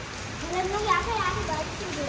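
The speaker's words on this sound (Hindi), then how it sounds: "अचानक बारिश शुरू हो गई है" Steady rain falls around a village home at midnight: a dense, even hiss that holds for about two seconds, with faint voice-like sounds behind it.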